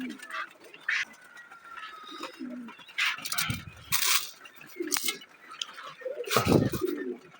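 Pigeons cooing and fluttering while being fed grain, soft coos mixed with scattered wingbeats and scuffling bursts, fairly close and uneven in rhythm.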